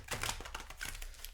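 A deck of Magic cards gets shuffled, a quick burst of papery riffling clicks and flutters lasting just over a second, close and alone.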